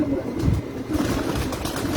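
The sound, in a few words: Batera pigeon cooing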